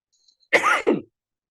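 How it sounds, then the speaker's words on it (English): A single harsh cough followed quickly by a short throat-clearing rasp, close and clear against silence. "sorry, I have to cough"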